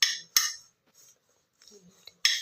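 A spoon stirs chopped guava with salt, pepper powder, chilli powder and oil in a bowl, giving three sharp, close metallic clinks and scrapes, at the start, just after and near the end, with soft shuffling between and no talk.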